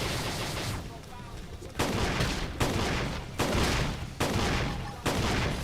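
Rapid gunfire in a Xenoblade Chronicles X battle, loud, dense bursts of fire repeating in waves roughly every second, with a brief lull near the start, no talking.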